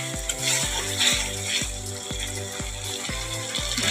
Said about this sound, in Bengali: একটু ভালো করে ভাজার জন্য মশলাটা জল দিয়ে ভালো করে কষিয়ে নেব।